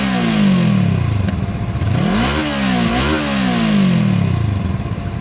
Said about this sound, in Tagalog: Yan po yung kanyang actual exhaust sound.